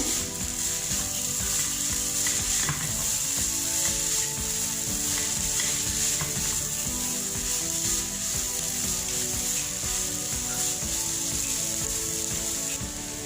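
Spices with red chili powder being stirred together in a pan on the stove for a breakfast dish, a steady dense sizzle with continuous scraping and rattling of the spoon, even in loudness throughout.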